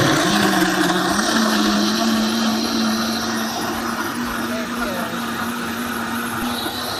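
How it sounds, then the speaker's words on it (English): A Vitamix professional blender whirs loudly and steadily while blending a green smoothie with water and omega-3, a constant motor roar with a sustained whining tone, close to the listener, with voices faintly underneath. "this is a Vitamix, which is a professional blender"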